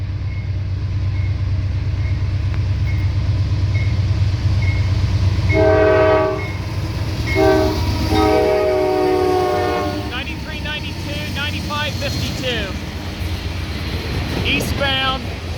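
Norfolk Southern freight train rumbling past at Seven Mile, Ohio, with a steady low roar of wagons and two short horn blasts around the middle, then longer horn calls and clattering wheel squeal later; a voice speaks over it.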